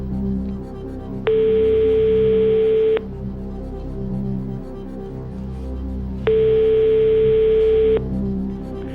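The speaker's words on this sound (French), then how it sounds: "on va appeler André." Telephone ringing during a TV quiz show broadcast, two long steady electronic rings separated by a pause of several seconds, loud and clear over faint studio background with no talking.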